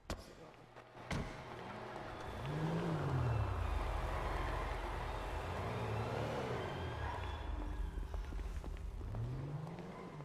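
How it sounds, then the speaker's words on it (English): A vehicle engine in a video game revs and pulls away, its drone rising and falling in pitch across the stretch after a sharp thud at the start, with faint talk underneath. "I'll quickly just move this vehicle"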